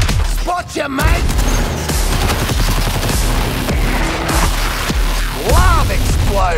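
Co-op firefight against a tank in the Suicide Squad: Kill the Justice League video game: dense, continuous rapid gunfire and blasts with whooshing effects, loud and close, with brief voices in the mix.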